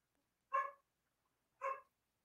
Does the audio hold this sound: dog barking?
yes